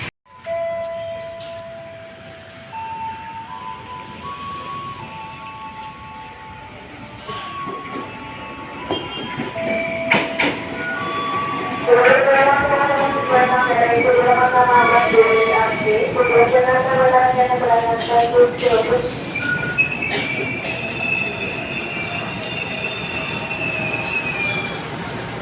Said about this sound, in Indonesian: Yuk, kita nungguin keretanya.